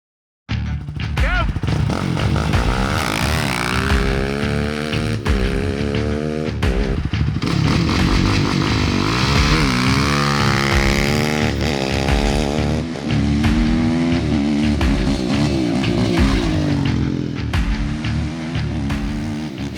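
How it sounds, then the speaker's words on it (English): A Yamaha YFZ450R quad fitted with an HMF Performance Series exhaust races on a cross-country track, its four-stroke engine loud and close, revving up and down through gear changes with a rasping, punchy note. "the HMF Performance Series exhaust delivers a deep, punchy, and pleasant 4-stroke sound for spectators"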